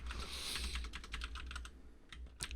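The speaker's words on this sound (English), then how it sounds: "You type in the name here" Rapid keystrokes on a computer keyboard, a quick run of close, crisp clicks with a brief pause and a few final taps, quiet and without speech.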